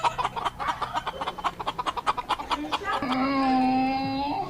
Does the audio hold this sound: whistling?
no